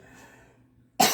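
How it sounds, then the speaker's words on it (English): A single sharp, loud cough bursts out close by after a near-silent pause and ends the clip abruptly. "I coughed"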